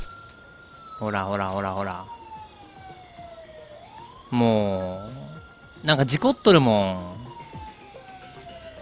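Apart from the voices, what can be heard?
police car siren in the video game Thief Simulator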